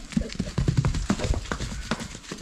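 A horse walking on Delft Island in a Jaffna village, its hooves clip-clopping in a quick, close, uneven rhythm with faint background noise.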